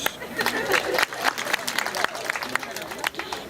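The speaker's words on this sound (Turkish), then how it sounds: "Eh, çok alkış" Applause from a theatre audience during a stage play, a dense burst of clapping that swells and dips over a few seconds, close and fairly loud.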